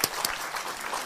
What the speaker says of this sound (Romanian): Da, chiar merită să-l aplaudăm.